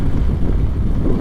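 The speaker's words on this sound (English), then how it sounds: "there's that wind." Strong wind buffets the microphone in a steady, loud low roar, heard outdoors on a trail ride along the Lolo Trail on the Idaho backcountry route, with no talk over it.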